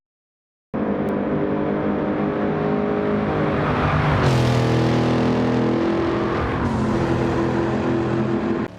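Toyota Tundra fitted with a GT500 engine swap races at night on Willow Springs in Gran Turismo 7, its engine droning loud and steady with rising revs and gear shifts, no talking over it.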